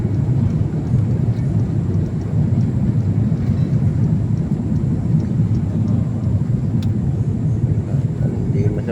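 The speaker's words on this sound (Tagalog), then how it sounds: "Paalis na yung aeroplano namin. Bilis na oh. Ayan, take off na guys." A passenger airplane takes off, heard from inside the cabin as a loud, steady, broadband engine roar and rumble that stays constant throughout, with a person talking over it.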